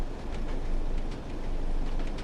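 A Class 101 diesel train runs steadily in Train Sim World 2, with a continuous rumbling engine drone and faint rhythmic rail clatter, moderately loud and without voices.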